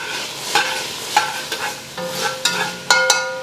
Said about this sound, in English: now I'm just going to dump these onions in. Stir around a little bit.